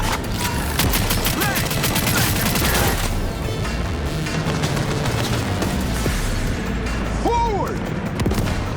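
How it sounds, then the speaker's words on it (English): Shotgun gunfire in Cyberpunk 2077 blasts in a dense burst of loud shots amid other combat fire and booms, then thins out as voices shout over the fight. "Using a shotgun!"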